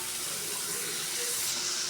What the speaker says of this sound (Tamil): இதை நல்லா வதக்கிப்போம்.